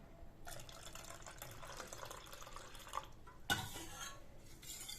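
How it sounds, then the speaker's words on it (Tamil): Water splashes and trickles into a metal pot that held buttermilk, amid light clinking of utensils, with a brief louder clatter partway through. "அந்த மோர் வச்சுருந்த பாத்திரத்தில் இருக்க தண்ணி ஊற்றுறேங்க."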